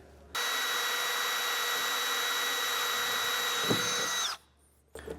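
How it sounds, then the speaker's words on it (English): A power drill with a 3/32 bit whines steadily at high speed for about four seconds drilling through a 2015 Chevrolet truck tailgate's metal, then stops abruptly, leaving quiet room tone and a faint clunk. "I'm using a 3/32 drill bit."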